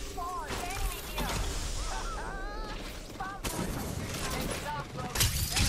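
Rapid bursts of gunfire crackle through a match of the shooter game Apex Legends, with repeated loud volleys mixed with warbling tonal game effects.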